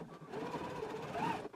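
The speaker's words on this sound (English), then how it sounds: "So now we're going to go ahead and stitch across there." Sewing machine stitching across the facing on the lower edge of an anorak hood, a steady close whirring run lasting the whole short stretch with no talk over it.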